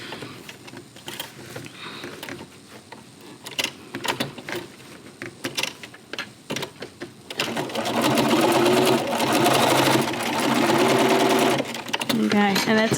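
A sewing machine runs steadily while stitching a French fold, a continuous mechanical whir in the later half after quieter handling noises and brief stops.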